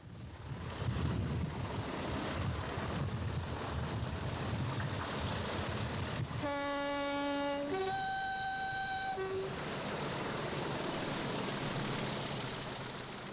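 Class 40 diesel locomotive hauling a rail tour away from Earlstown: a steady engine rumble, then a loud two-tone horn blast at mid-span before the low diesel throb continues.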